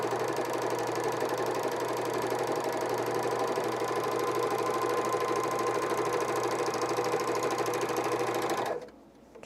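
A serger and coverstitch sewing machine runs steadily while stitching underwear with picot elastic, a fast even mechanical whir held for several seconds before stopping abruptly, with no voices.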